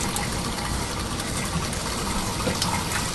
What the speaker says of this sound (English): I'm going to take this 9x13 baking pan and I'm going to fill it with some hot water.